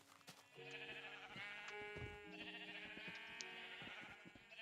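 Sheep bleating in Minecraft, several tonal, wavering bleats overlapping one another over a few seconds alongside scattered clicks of game activity, with no one speaking.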